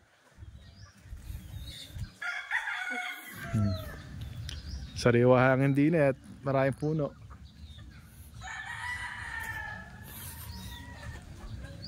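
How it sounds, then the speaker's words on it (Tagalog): Chickens and roosters on a farm in Batangas City cluck and crow, with a loud rooster crow in the middle and scattered calls around it while people talk nearby. "kahit saan ka pumwesto may manok"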